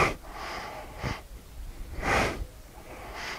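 Breathing during a slow stretching exercise routine: a few audible breaths and snort-like nasal exhales come in separate bursts close to the microphone, with quiet pauses between them and no speech.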